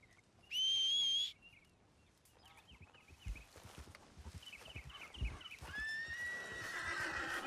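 A horse in the Red Dead Redemption 2 video game is called with a loud, sharp whistle. Soft hoof clops follow as it approaches, then a high, drawn-out whinny rings out near the end.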